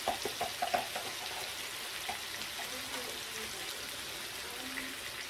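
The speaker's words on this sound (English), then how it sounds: "Give that a little stir." Steak, potatoes and broccoli frying together in one pan as they get stirred, a steady soft sizzle with faint scraping taps near the start.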